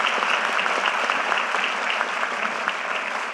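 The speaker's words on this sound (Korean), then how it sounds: "박수 한번 주세요." A crowd at a presidential town hall meeting in Jeju applauds with steady, dense clapping that holds at an even level throughout, with no voices over it.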